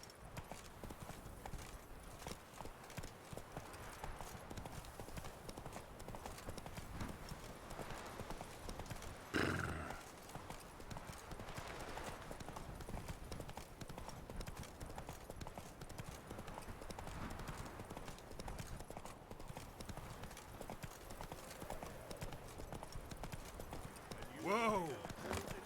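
A horse galloping in The Witcher 3: Wild Hunt, with steady hoof clip-clops running throughout and a couple of whinnies, while voices talk over it.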